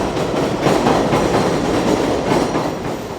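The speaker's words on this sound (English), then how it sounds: "this train's driving me nuts" A train rumbles past near Corona Park in New York City, loud and close, with a steady rolling roar and faint rhythmic clatter of wheels throughout, no voices over it.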